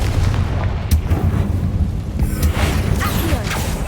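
A Confringo fire spell explodes in Hogwarts Legacy with a loud, booming blast, followed by a dense rumble and crackle that sustains for several seconds.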